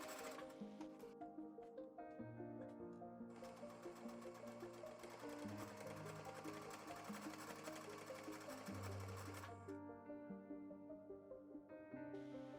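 Sewing machine stitching face mask seams, running steadily in rapid rhythmic bursts with a few short pauses between runs, close and alone.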